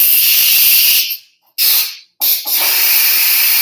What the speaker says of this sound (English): let the steam out as fast as possible